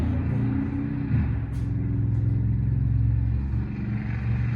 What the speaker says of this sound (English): That was a truck.